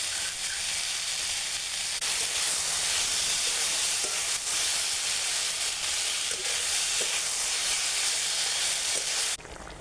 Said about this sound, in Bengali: এবার একটু লবণ দিয়ে টমেটোটা ভালো করে নেড়ে চেড়ে কষাবো